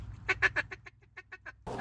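Mallard ducks on a farm pond give a run of about ten quacks, loud at first and then softer, with a short burst of noise at the end.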